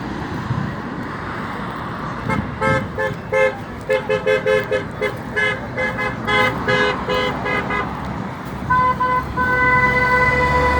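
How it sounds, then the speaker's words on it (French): Many car horns honk in overlapping short and long toots amid traffic noise at a roundabout protest, some near and some farther off, forming a continuous chorus of honking. "ça klaxonne de tous les bouts"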